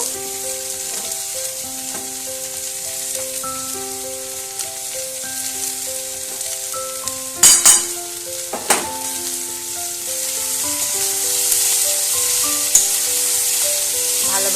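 Snake gourd frying in a pan with salt and turmeric, giving a continuous loud sizzle under soft background music, with a couple of sharp scraping stirs partway through.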